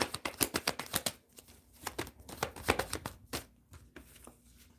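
Tarot cards being shuffled and drawn, a rapid run of crisp riffling flicks at first, then a pause and more scattered shuffles and snaps, fairly close, with no talking.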